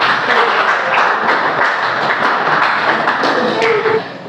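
A classroom group claps for the team about to give its presentation, a steady wash of applause that holds for about four seconds before thinning out at the end, with some voices mixed in.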